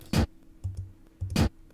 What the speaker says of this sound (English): Real gritty kind of knock sound that I ran through the modular channel